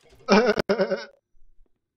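A person imitates a sheep, giving one wavering, nasal bleat close up with a short break in the middle, followed by quiet.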